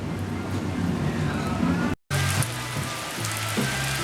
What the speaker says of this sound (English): Well, we're getting a little rain here at Core Rally.